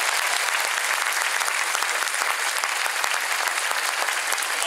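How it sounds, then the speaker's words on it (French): Audience at the ICES Show 2016 breaks into loud, dense applause after a performance, a continuous wash of clapping with no pause. "Un tonnerre d'applaudissements, s'il vous plaît."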